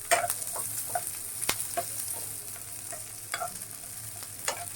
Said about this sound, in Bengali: রসুন পেঁয়াজ কাঁচামরিচ সবগুলি ভাজা হয়েছে